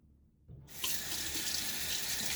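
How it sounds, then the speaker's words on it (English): A sink tap starts running and water pours steadily as fingers are rinsed between lathering shave soap, a close, continuous splashing hiss after a quiet start. "as I rinse my fingers"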